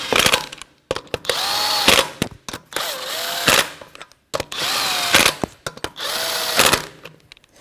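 A power tool, likely an impact wrench, snugs lug nuts on a 1992-1996 Toyota Camry front wheel during a brake caliper job, firing in four close, loud bursts of whirring hammering separated by short pauses.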